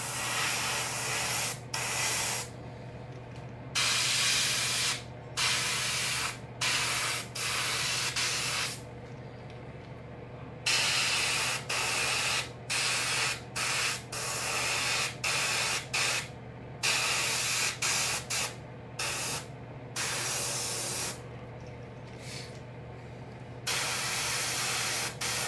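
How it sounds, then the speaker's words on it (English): A paint spray gun hisses in repeated bursts while painting a fishing lure, some short and some lasting several seconds, with brief pauses between them over a steady low hum. "I'm gonna spray some radiant on top, maybe the sides."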